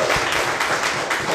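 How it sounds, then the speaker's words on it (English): A short burst of clapping from a small audience at a live podcast recording, a brisk, close patter of hands sustained through the moment with little else around it. "Round of applause, everyone."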